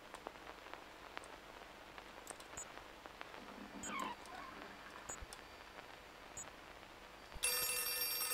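A telephone rings in the Outlast 2 horror game, a sharp electronic ring bursting in at the end after quiet ambience with faint rain-like patter and scattered soft clicks.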